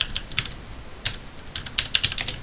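Keys clack on a computer keyboard as someone types and presses the Control key: a scatter of crisp, close clicks in small irregular bursts, with no voices.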